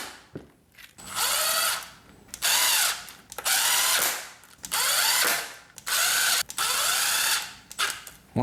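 A ratchet tightens the valve cover bolts on a Yamaha R6 motorcycle, sounding in several close bursts of rapid clicking, each about a second long and separated by short pauses.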